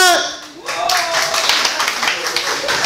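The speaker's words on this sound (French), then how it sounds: "Les filles applaudissaient." Women in a comedy show audience clap, a brisk burst of hand claps rising after a brief voice at the start and continuing steadily, with some crowd noise.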